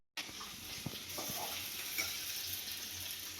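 Potatoes frying in a pan in a home kitchen, a steady soft sizzle with a few faint clinks and stirring taps, quiet and continuous with no talking.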